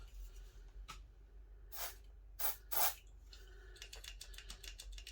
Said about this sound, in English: you just squirt and switch, little squirt, and then switch it, just to lube it up